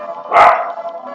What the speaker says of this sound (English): Oh god, the dogs again.